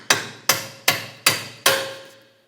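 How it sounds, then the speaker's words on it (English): Five evenly spaced, ringing metal hammer blows drive a bolt through a rear strut assembly from a 2007-2010 Chrysler Sebring. The strikes are loud and close, and each one rings and decays before the next. "I'm going to use my hammer and drive the bolt through."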